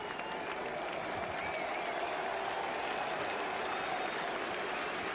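A cricket crowd at a 1980 England versus West Indies test match cheering and applauding David Bairstow, a steady, fairly distant wash of clapping and cheers throughout.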